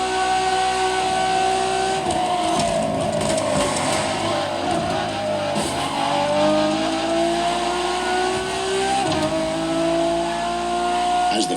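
A Ferrari Enzo supercar engine in The Crew Motorfest revs loudly and continuously, its pitch climbing and falling through sustained acceleration, with faint tire squeal and no talking.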